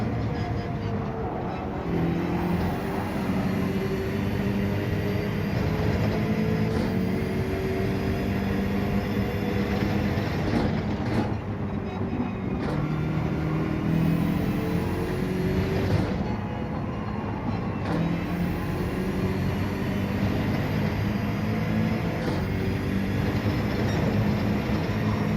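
A Group 3 Porsche 911 race car engine drones steadily in a racing video game, with sustained tonal whine and gear-shift changes under the game's constant background noise.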